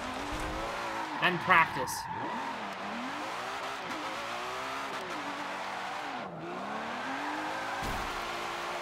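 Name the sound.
car drifting with tire squeal, Forza Motorsport 7 video game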